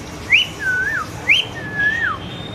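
Two whistled calls imitating a parrot, each a sharp rising squeak followed by a longer wavering tone, clear and close.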